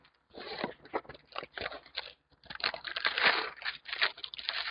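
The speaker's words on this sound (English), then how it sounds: "It is now chewing on a toy" Close, bursty chewing and crunching, with gnawing on something hard in irregular spurts and brief pauses between.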